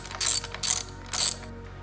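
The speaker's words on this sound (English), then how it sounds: "we'll slide in our M8 base and tighten using a 13mm socket" A hand ratchet with a 13mm socket tightens an M8 bolt on a motorcycle handlebar clamp mount, giving three short bursts of close, crisp clicking separated by brief pauses.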